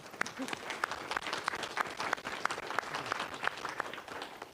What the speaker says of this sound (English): I know I'm clapping for myself.